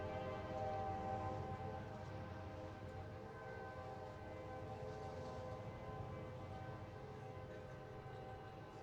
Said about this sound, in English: I'll pause while this train goes by.